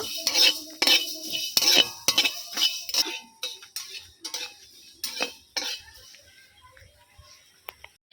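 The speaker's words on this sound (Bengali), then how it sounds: "ধনেটা আমি ভেজে নেব" Coriander seeds dry-roasting and being stirred in a pan for a sour-sweet-spicy mango pickle, with a burst of scraping, rattling strokes that gradually thin into sparse, softer clinks and taps.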